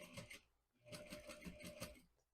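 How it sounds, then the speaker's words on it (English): A sewing machine stitches fabric for a pencil pouch, running steadily in two fast, rhythmic bursts with a brief slowdown between them, close and clear with no talking. "I'm just sewing right up that line"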